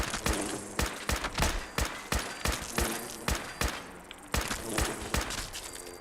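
Rapid bursts of combat rifle gunfire in the video game Fallout 4 during a fight with bugs, a dense run of punchy shots in quick succession with brief pauses between bursts, loud and close.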